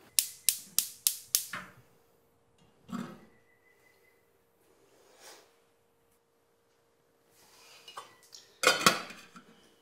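A metal spoon clinks in quick succession against a pan while cooked basmati rice is scooped out, followed by scattered scraping and a final louder burst of clatter, close and otherwise quiet.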